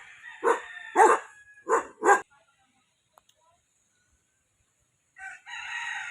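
A dog barks four times in quick succession, fairly close, then a pause of quiet before a longer burst of barking or yelping toward the end.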